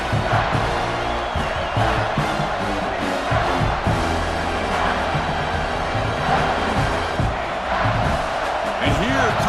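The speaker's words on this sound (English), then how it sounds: "The noise. This crowd is trying to inspire this defense to make a big red zone stop." Constant roar of a stadium crowd in EA Sports College Football 26, Alabama vs Michigan, steady and loud throughout, with game sound effects and bursts of noise layered over it.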